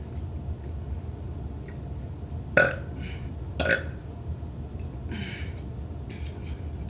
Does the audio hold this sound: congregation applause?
no